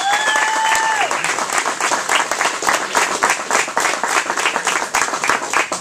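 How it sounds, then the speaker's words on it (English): Audience applause closing an interview show, sustained clapping from a crowd at steady strength, with a brief whistle-like tone and some voices near the start. "Let's give this man a round of applause."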